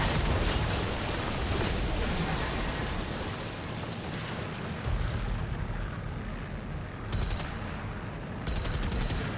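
Heavy cannon fire from the video game DOOM: The Dark Ages pounds out in a dense, continuous barrage of booming shots and explosions. The battle noise stays loud and unbroken the whole time, with no talk over it.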